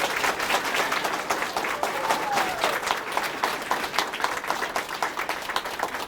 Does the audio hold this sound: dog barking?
no